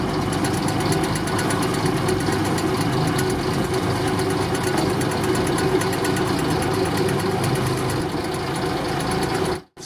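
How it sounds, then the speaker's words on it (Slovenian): A 1963 MAN 635 HK short-bonnet truck engine, twice overhauled and running smoothly, idles with a steady, even diesel rumble and rapid regular knock, loud and close, cutting off abruptly at the end. "Motor, ki je bil deležen 2 generalnih popravil, pa brezhibno teče."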